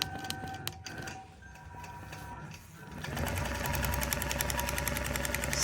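A sewing machine runs at a steady fast clip, stitching the second line down a rolled cuff on a Christmas stocking; a quieter start gives way to loud continuous whirring from about three seconds on.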